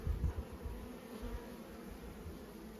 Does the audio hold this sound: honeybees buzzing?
yes